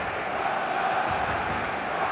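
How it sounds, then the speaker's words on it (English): Stadium crowd in the eFootball 2026 mobile football game, a dense steady roar of many voices with no gaps, loud and constant for a couple of seconds. "The stadium is full of noise and energy."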